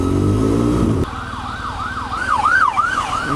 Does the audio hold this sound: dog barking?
no